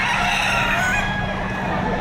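A rooster crows amid other clucking chickens at a busy livestock auction market in Padre Garcia, Batangas, the calls loud and layered over constant crowd and yard noise.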